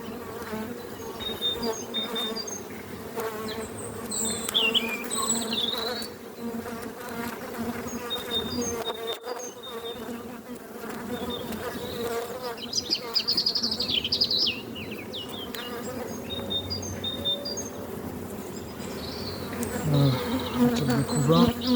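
Honeybees swarm densely around an open hive during a beekeeping inspection, with a loud, continuous, close-up buzzing that rises and falls. Faint chirps sound in the background.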